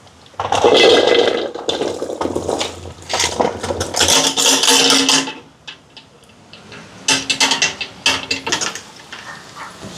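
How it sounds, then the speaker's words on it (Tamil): Water is poured into a cooking pot of cut pumpkin in loud gushing bursts, with clanking and a few lighter splashes as it slows and stops. "இது அவியறதுக்கு தேவையான அளவுக்கு தண்ணி சேர்க்குறேன்"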